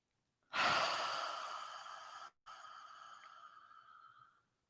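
Someone exhales deeply and audibly during a hatha yoga session, a long close breath that fades out, followed after a short break by another, softer release; quiet surroundings, no talking.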